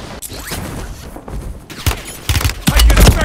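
Gunfire in Call of Duty: Warzone on the Vondel map: scattered shots build into loud, dense bursts over the last second and a half, close and sharp, with no talk.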